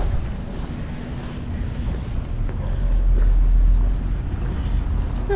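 Small water feature outside a glass art studio at a lodge in Denali, Alaska, giving a steady broadband wash of flowing water with a faint swell midway, close and continuous, with no talk over it.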